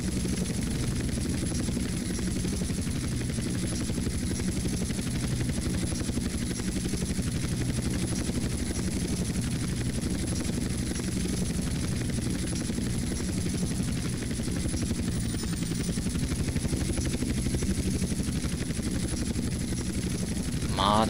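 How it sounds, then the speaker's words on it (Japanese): A heavy helicopter flies in the video game GTA San Andreas, its rotor and engine a constant, loud drone with a thin high whine above it, steady and unbroken for the whole stretch. "このヘリ重たいから、う、操縦しづれえな。"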